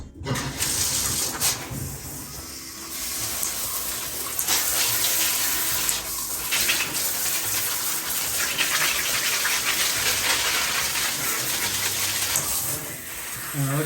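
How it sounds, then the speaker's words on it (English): Tap water gushes at high pressure over a houseplant being rinsed of mealybugs, a steady splashing spray with brief breaks and shifts as the stream moves across the leaves, a voice briefly heard behind it. "I need a lot of pressure to rinse everything off"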